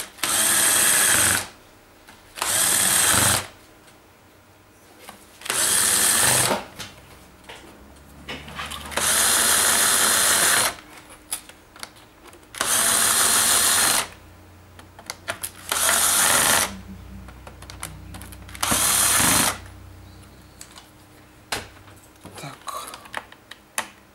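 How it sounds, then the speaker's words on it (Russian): Small screws on an Asus U45J laptop being driven in by a screwdriver, heard as repeated bursts of close, buzzing whirring of a couple of seconds each, separated by brief quiet pauses. "и давайте по кругу их закручиваем."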